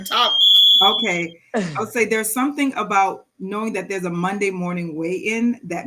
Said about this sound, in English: Hold on, that's my alarm.